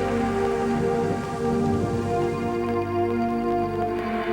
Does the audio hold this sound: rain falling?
yes